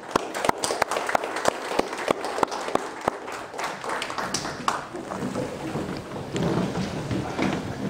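An audience at a town address applauds. Sharp, scattered claps merge into sustained crowd clapping that carries on steadily and fills the room.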